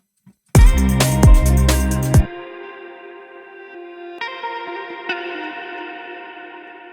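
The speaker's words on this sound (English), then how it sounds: "let's take this hit at the end here, take it to the end, reverse it" A few heavy, distorted hits ring out, then a bright, echoing tone sustains and slowly fades, with a couple of faint clicks along the way; the hit sample is reversed and faded in.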